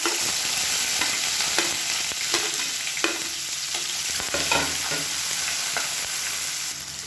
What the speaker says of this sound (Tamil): இப்போ இதில் பொடியாக கட் பண்ண வெங்காயம் சேர்த்துக்கலாம்.